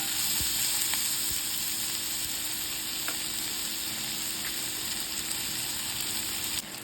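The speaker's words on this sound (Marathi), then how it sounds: "त्यामध्ये आपण जो कापलेला टोमॅटो आहे तो सुद्धा मी त्यामध्ये घालून घेते छानसं ब्राऊन झालं पाहिजे" Chopped tomato fries and browns in a pan with a steady, unbroken sizzle, close and fairly loud, with a few faint stirring clicks.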